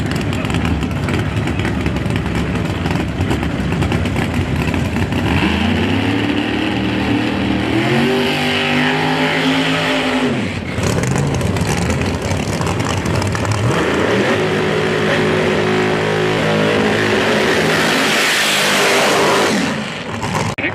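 Pro Mod drag racing cars, among them a 1969 Camaro, roar down the strip at a PDRA World Finals event, loud engine howl rising in pitch through the gears, dipping briefly, then surging again over sustained crowd-level track noise.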